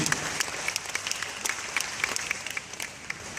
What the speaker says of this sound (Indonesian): Tepuk tangan sekali lagi untuk Ibu.